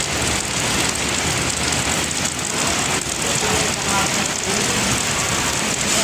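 Heavy rain pours down at the Esplanade along the Pasig River, a loud, steady downpour with faint traffic rumbling underneath.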